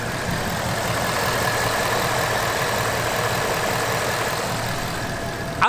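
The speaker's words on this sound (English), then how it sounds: "Here the car is idling very, very well actually." A 2018-2019 Ford Mustang GT engine idles steadily with a low, even rumble, close by and constant, ending in a brief louder knock.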